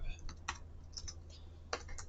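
Keys clatter on a computer keyboard during a Linux install in a terminal, with a few sharp clustered clicks and lighter taps over a steady low hum, close and fairly quiet.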